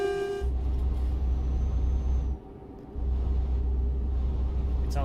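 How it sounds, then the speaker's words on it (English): Truck horn honked in Euro Truck Simulator 2, a loud steady tone with strong harmonics in two long blasts separated by a short gap, over a low engine rumble. "I don't know why I'm beeping this horn."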